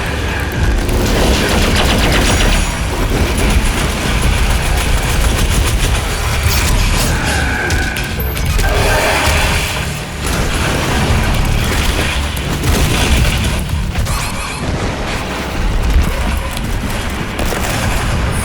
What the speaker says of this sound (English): you got these fireballs that prevent you from retreating